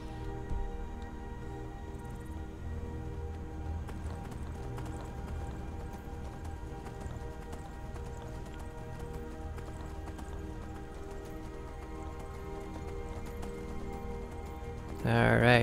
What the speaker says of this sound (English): does anybody know if I can buy a horse for that guy?